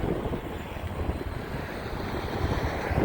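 A BMX electric bike motor accelerates on throttle outdoors, giving a steady whirring drone mixed with rushing wind noise that builds slightly toward the end, with no talking.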